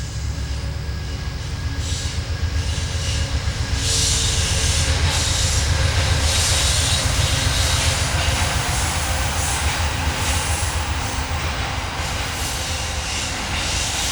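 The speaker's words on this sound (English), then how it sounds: "Every time I do a video, a train goes by." A train passes nearby, its steady loud rumble and rolling wheel noise filling the whole stretch without letup, no voices over it.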